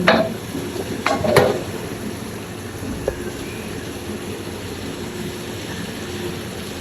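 Fish curry being stirred in a pot after coriander leaves go in: a few sharp clanks of a spoon against the pot at the start, then a soft, steady simmering hiss with an occasional light tap.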